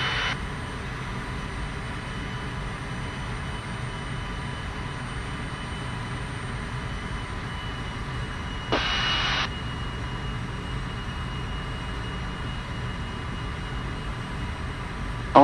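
Steady drone of a Cessna single-engine light airplane in flight, a continuous even engine hum filling the whole stretch with a brief higher-pitched burst midway; no talking.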